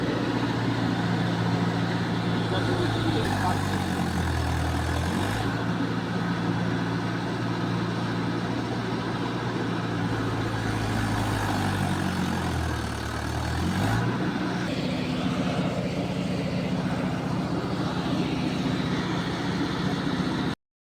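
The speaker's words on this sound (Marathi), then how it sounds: "ट्रॅक्टर अटकलेला आहे रेतीचा" Engine of a sand-hauling tractor stuck in place, a loud continuous low rumble whose pitch dips and swells twice as the throttle is worked, heard close with no talk.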